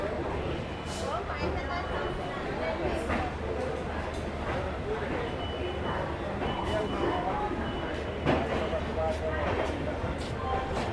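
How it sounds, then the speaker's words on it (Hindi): The Kolkata Sairang Express pulls away from platform 2, its low rumble and rattling wagons running steadily beneath a person talking close by. "प्लेटफॉर्म नंबर 2 से हमारी ट्रेन डिपार्चर ले रही है।"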